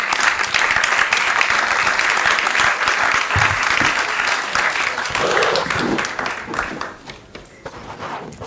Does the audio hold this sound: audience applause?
yes